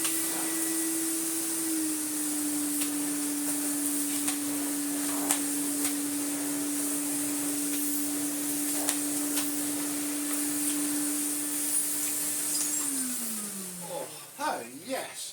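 A faulty Miele S424i vacuum cleaner running on a rug, with a steady whining motor drone that holds for several seconds and then winds down, plus occasional clicks and bumps as the rug is tugged.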